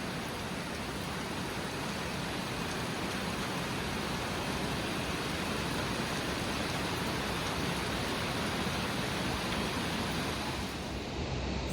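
Heavy rain pours down continuously in a dense, steady roar, loud and unbroken throughout, with no voices.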